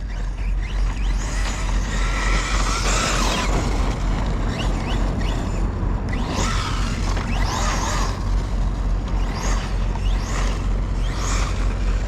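An Arrma Fireteam RC truck drives with a steady, loud rush of motor and gravel noise throughout, broken by several rising and falling whines as the electric motor revs up in bursts.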